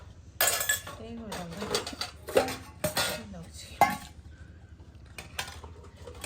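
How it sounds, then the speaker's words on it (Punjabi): Dishes and utensils washed at a village kitchen sink, with a run of metal clanks, clinks and knocks of steel pots, plates and cutlery, close and fairly loud, with a voice talking between them. "ਤੇ ਸਾਰੇ ਭਾਂਡੇ ਧੋ ਕੇ ਤੇ ਜੂਠ ਇੱਕ ਇੱਕ ਜਗ੍ਹਾ ਇਕੱਠੀ ਹੋ ਜਾਂਦੀ ਆ ਸਾਰੀ"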